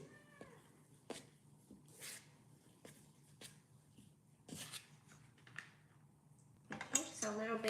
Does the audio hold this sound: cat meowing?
yes